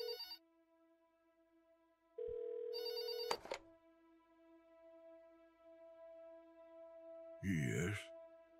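A synthetic telephone rings in short electronic bursts in the video game There Is No Game: Wrong Dimension, bright and tonal over a steady background hum, with a few clicks between rings.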